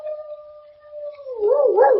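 A dog named Toby howls in a long, steady held tone, then breaks into wavering, rising and falling yowls that grow louder near the end. No one speaks while it sounds.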